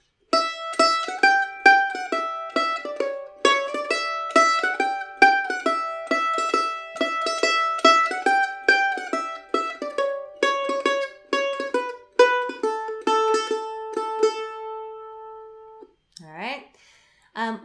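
The A part of the fiddle tune Old Joe Clark, played with a shuffle bow, gives steady rhythmic bowed notes that carry the melody, loud and close, and end in a brief slide.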